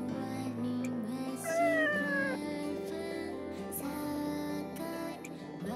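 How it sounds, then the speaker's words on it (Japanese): A black cat in the video game Nights of Azure meows several times, clear rising cries over a steady bed of game music. "こいつはいつもの黒猫だな。"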